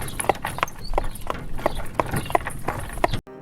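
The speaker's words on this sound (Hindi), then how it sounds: "इतने में घोड़े की टांगों की आवाज आने लगती है।" Cartoon horse hooves clip-clop steadily as a Hindi village landlord and his servants ride up, a rhythmic run of sharp, fairly loud hoofbeats that breaks off abruptly at the end.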